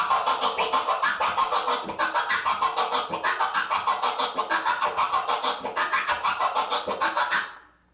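Rapid, rhythmic turntable scratching chops a sound into quick stuttering bursts, loud and close, continuing for several seconds before cutting off.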